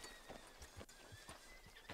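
A horse in the Red Dead Redemption II video game whinnies and clops its hooves, with a few distinct hoof strikes and a sharp neigh at moderate level, with no talk over it.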